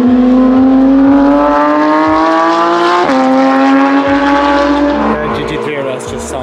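A Porsche GT3 RS at the Road America race track screams at high revs, climbs through a gear change and keeps pulling before fading slightly as it moves away, loud and close.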